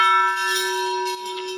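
A big bell at the Maa Ghanteswari temple in Chipilma rings with one strong struck tone, its steady metallic hum sustaining loud and close throughout without any talking.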